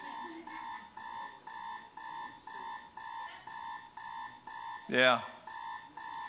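An alarm clock rings in a steady repeating beeping pattern of short, evenly spaced bursts, with a person briefly speaking over it near the end.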